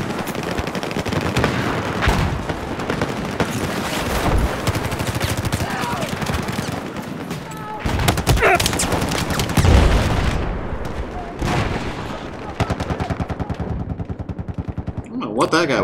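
Close-range automatic weapon fire and explosions from the shooter game Battlefield 4 in a close-quarters match, with dense rapid bursts and booms that keep going throughout and a few heavy hits.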